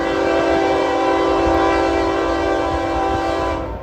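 A train passes through Folkston, Georgia, its horn blaring loud and steady over continuous rolling rail noise, close by, with no voices.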